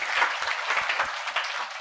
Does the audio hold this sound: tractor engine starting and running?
no